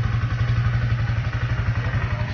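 Small 110 cc Kawasaki KSR 110 mini trail motorcycle idling up close, with a fast, even, throbbing putter and light mechanical clatter throughout, steady and without talking.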